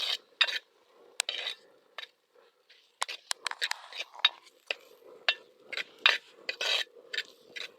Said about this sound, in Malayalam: തക്കാളി ഒന്ന് വെന്ത് നല്ല രീതിയിലൊന്ന് ആയി വരുന്നവരെ നമുക്ക് ഇളക്കി കൊടുക്കാം